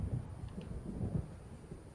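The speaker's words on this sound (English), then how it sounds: "It seems there's a storm coming." Low rolling thunder of an approaching storm in the video game Alan Wake, a faint continuous rumble with soft rain-like noise, distant and without talk.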